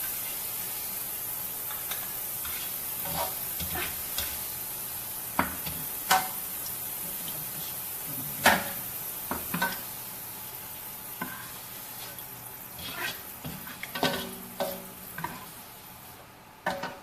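Rice fries in oil in a pan while arroz valenciana is cooked, giving a steady close sizzle with scattered sharp ticks and scraping stirs throughout, and no voices.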